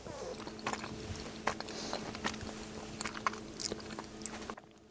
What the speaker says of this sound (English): So I was chewing a gummy and I forgot to show which one I'm chewing